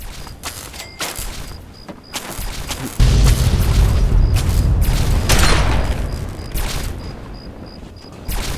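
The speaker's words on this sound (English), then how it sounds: "it sounds like somebody's firing at me" Gunfire and booming blasts in the video game Fallout 3, a dense burst of rattling shots and heavy rumbling impacts over several seconds amid game ambience, with no talking.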